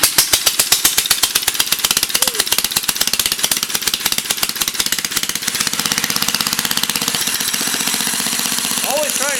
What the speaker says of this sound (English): Lovely backfire.